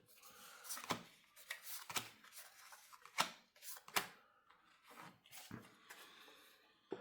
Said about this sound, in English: I draw 4 cards.